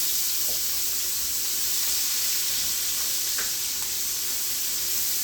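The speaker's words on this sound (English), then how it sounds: "And we're gonna saute it." Steady, loud sizzle of ingredients sauteing in a pan for chicken and shrimp carbonara, with a few faint scrapes and clinks of a utensil over the continuous frying hiss.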